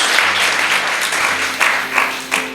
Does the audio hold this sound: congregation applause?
yes